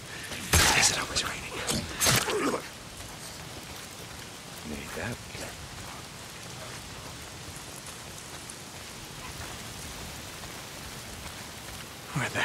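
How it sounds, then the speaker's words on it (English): Steady patter of rain in the Days Gone game, a soft continuous hiss with several louder sharp bursts near the start, then settling into an even, moderately quiet downpour. "If it's not the freaks, it's the goddamn rain."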